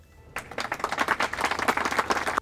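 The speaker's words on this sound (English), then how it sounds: "I gave myself some time for a round of applause there." Applause from a crowd, dense continuous clapping that starts abruptly after a short quiet moment and stays loud and steady to the end.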